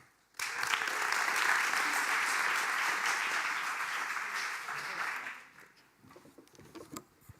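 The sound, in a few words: audience applause welcoming Rob Huisman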